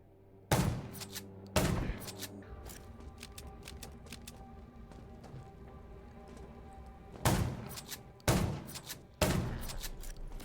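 Gunfire in the survival shooter Garena Undawn: sharp single shots and short bursts crack out at intervals over a quiet game ambience, loud and close.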